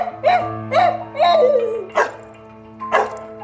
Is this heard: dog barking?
yes